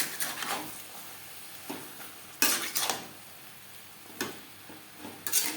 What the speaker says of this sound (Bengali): নারকেলও কাঁচা লঙ্কা বাটা সবজির সাথে বেশ ভালো করে মিক্সড করে দেব